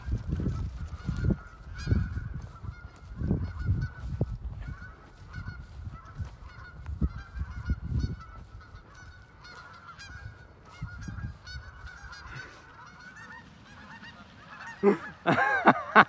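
Geese honk repeatedly near a giant schnauzer, with scattered calls and low thumps throughout before several louder, closer honks near the end.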